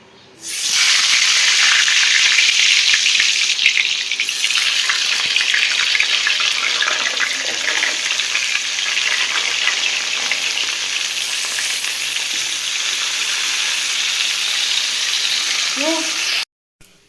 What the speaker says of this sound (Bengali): এখন প্রথমে পটলগুলোকে কড়াইতে দিয়ে দিই